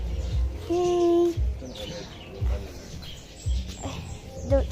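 Small birds at Noah's Ark zoo give faint, scattered chirps and one clearer whistled call among low handling thumps and background noise, fairly close but quiet.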